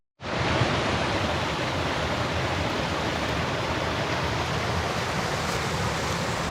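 Small creek waterfalls along a Smoky Mountains trail near the lakeshore give a steady, loud, broadband rush of falling water, constant and close, with no voices.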